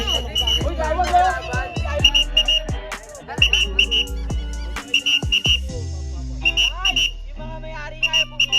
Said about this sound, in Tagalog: Yung mga may-ari nga yung pumito eh.